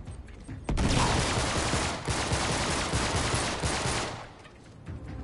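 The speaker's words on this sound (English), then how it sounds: "I freaking love the pistol." Pistol gunfire in the video game Uncharted, heard as a loud, dense stretch of close shooting that begins abruptly, rolls on for about three seconds with a brief dip, then fades into quieter rattling.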